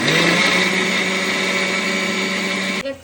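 A kitchen mixer grinder runs at full, steady whine, blending garlic, green chili, fresh coconut, coriander and ginger into a paste, loud and continuous before cutting off abruptly near the end.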